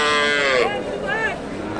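A young Friesian heifer calf moos loudly and close at a cattle market, one long drawn-out call followed by a shorter rising one, with faint crowd noise behind.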